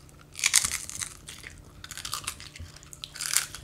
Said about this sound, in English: That's some serious crunching going on over there.